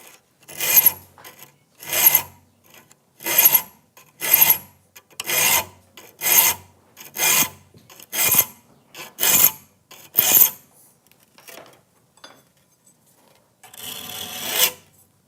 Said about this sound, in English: When you file a saw, you're creating a burr with the file.